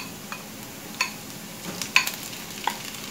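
Broccoli goes into a pan with browned garlic and onion, giving a steady low sizzle with scattered stirring taps and scrapes of a utensil against the pan, close and moderately loud, with no talking.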